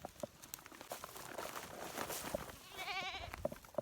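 Goats tied near a rural home bleat in several short calls, with one longer wavering bleat, over rustling and light footsteps close by.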